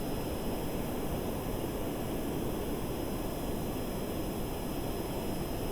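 Airplane engine noise from the Kerbal Space Program video game, a steady, even roar with a constant hiss and no change in pitch, playing alone throughout.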